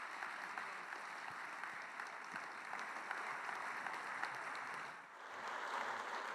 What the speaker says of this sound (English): please, another massive round of applause for the Prime Minister